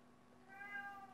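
A domestic cat lets out one drawn-out, rising meow that sounds upset. It is faint against a quiet indoor hum.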